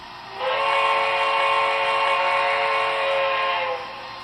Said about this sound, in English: So that's the whistle that I like, and then this is the other whistle, just so you can hear them all.